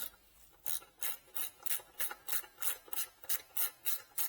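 Brake disc rotor bolts on a 2015 Kawasaki ZX10R superbike being turned by hand, giving about a dozen soft, evenly spaced rasping clicks at close range with no voices.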